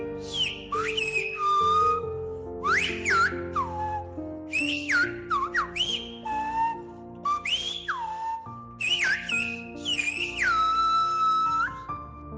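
Silbo Gomero, the whistled language of La Gomera, rendered as loud, piercing whistled phrases that glide up and down in pitch, separated by short pauses, with a reverberant backing beneath and no speech.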